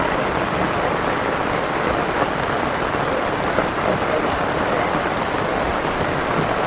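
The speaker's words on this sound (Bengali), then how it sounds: "অনেক বৃষ্টি, এই বৃষ্টি।" Heavy rain pours down steadily, a loud, dense and unbroken hiss of drops hitting surfaces from start to finish.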